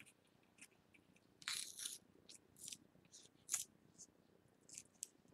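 Scissors snip through washi tape in a quiet room, a few short, crisp cuts scattered between pauses, with one longer rasping cut near the middle.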